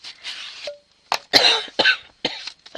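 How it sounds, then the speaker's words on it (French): A woman coughs several times in short, close bursts, a dry hacking run with brief gaps between the coughs. "Je vais tousser ce matin. Je tousse"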